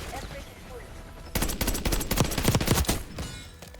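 Full-auto AEK 972 rifle fire in Black Ops 6, a loud sustained burst of rapid shots lasting about a second and a half under steady game background noise, with fainter gunfire trailing off afterward.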